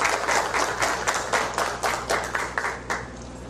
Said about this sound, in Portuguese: vamos bater uma salva de palmas para eles também